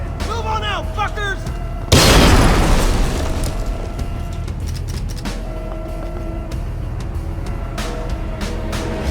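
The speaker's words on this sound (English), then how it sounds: "He's got a grenade!" A grenade explodes in the stealth shooter Splinter Cell Conviction: one sudden, loud, full-bodied boom that fades into a long rumbling tail over the game's continuing background sound and music.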